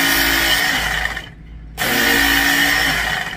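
A Work Sharp WS knife and tool sharpener grinds a knife, a loud close whirring buzz that breaks off briefly between passes and then resumes.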